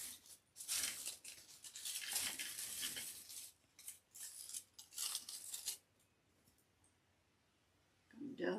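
Scissors trim the tie tail on a rustic evergreen Christmas wreath, with a run of crisp close snips and clicks amid rustling greenery, then a quiet pause before a brief voice at the end.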